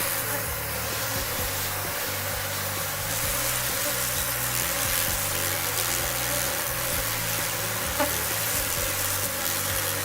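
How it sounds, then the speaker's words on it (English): A dense, continuous buzzing of many honeybees, loud and close, as they swarm and attack a giant hornet in a defensive ball, with a low droning hum steady throughout and no voices. "Around 20 bees are attacking the hornet, and it is struggling to escape."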